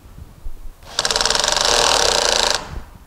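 A power screwdriver's motor spins freely in a workshop while its clutch slips and the screw stays still, giving a steady high whirring buzz that runs about a second and a half at close range, with faint handling noises around it.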